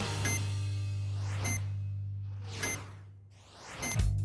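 Short electronic beeps mark each swing of a pendulum at the bottom of its arc, four clear tones spaced roughly a second or more apart against a steady low hum.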